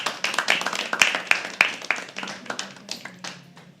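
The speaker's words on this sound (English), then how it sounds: "Keep clapping till he comes." Audience applause at a live poetry open mic, a steady patter of many hands clapping at close range for nearly four seconds, with a few sharper claps standing out and a faint murmur of voices underneath.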